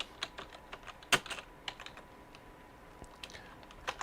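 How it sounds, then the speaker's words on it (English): Keys clack on a computer keyboard in short irregular bursts with one sharper strike, typing close by and alone at a modest level. "I'll type it in."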